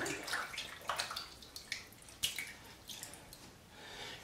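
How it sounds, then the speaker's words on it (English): Warm water trickles and drips onto a shaving brush held over a sink, with a few soft splashes and irregular dribbles close by. No one speaks. "put some warm water on it"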